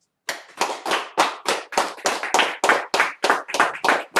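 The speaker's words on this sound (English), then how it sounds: "let's clap it up" A small group claps in slow, loud unison beats, about a dozen sharp close claps in a steady rhythm with no talk.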